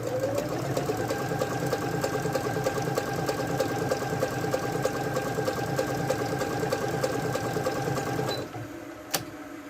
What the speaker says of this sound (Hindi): इसमें 3 किस्म की सिंपल स्टिच है और ट्रिपल सिलाई है।